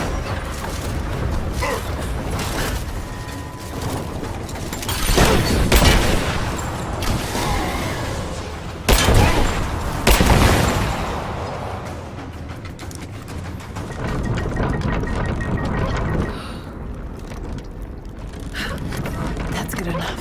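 Gunfire in the video game Lara Croft Tomb Raider, bursts of loud shots and impacts over a busy rumbling, creaking background, with a voice speaking in places.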